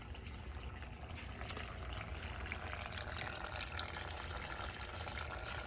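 Tap water runs steadily into a sink as hands are washed in a garage during a Subaru WRX engine pull, a continuous even hiss of flowing water with no talk.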